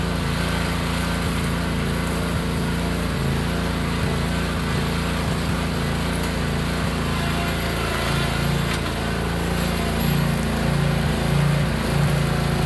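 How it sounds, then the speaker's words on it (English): A 42-inch lawn mower runs steadily throughout in an overgrown yard, its close, loud engine drone holding a constant pitch with no voices. "It's a 42-inch mower."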